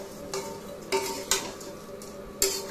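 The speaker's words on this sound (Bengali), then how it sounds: "এবার ভালো করে ম্যাগিটাকে একটু ভেজে নেব মশলার সাথে" Four packs of Maggi noodles fried with masala in a pan, a soft low sizzle punctuated by four distinct spatula knocks and scrapes against the pan, quiet and close with no voices.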